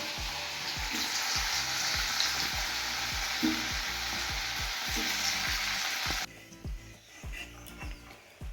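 Potato pieces fry in a pan with a loud, steady close sizzle and rhythmic scrapes of a spatula, then the hiss drops away abruptly near the end, leaving quieter scattered kitchen sounds.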